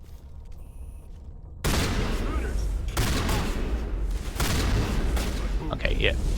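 Video game gunfire in Mass Effect, with dense, continuous shooting and booms that start abruptly after a quiet opening and stay loud throughout, with faint voices underneath.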